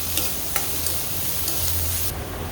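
Paneer curry ingredients sizzle in a pan while a spoon stirs them. A steady, soft frying hiss runs throughout, with a few light scraping ticks of the stirring.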